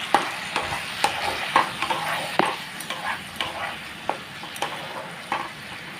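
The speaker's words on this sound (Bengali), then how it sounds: "বড়ার তরকারির জন্য এখানে আলু আর টমেটো দিয়ে মশলা কষিয়ে নিচ্ছিলাম।" Masala sautéed with potato and tomato for a curry with fritters crackles softly in the pot while a spoon scrapes and knocks against it in a steady, regular rhythm.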